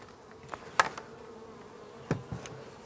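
Honeybees buzz close by near a hive after a bee-vacuum transfer, a faint drone with a few brief louder passes as individual bees fly near.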